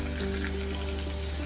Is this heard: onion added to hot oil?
yes